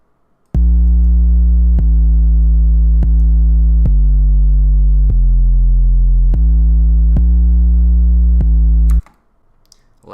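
Deep, booming 808 bass notes from a trap beat play a repeating pattern of sustained hits at shifting pitches, loud and alone, then stop abruptly.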